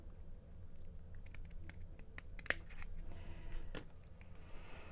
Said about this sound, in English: we're just going to take one nice straight cut up like so